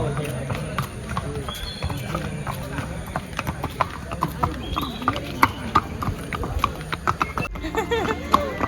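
Hooves clip-clop steadily as horses walk along a trail at the Matheran hill station, with people talking over the rhythmic clatter.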